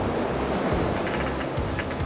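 Ocean waves surging around a boat out at sea in rain and fog, a steady broad wash of surf with gusting wind buffeting the microphone, continuous and fairly loud throughout, with no voices.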